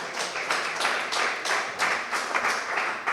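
An audience breaks into applause at a live rugby league podcast recording, a brisk round of clapping that rises and falls in clustered bursts and stays moderately loud throughout.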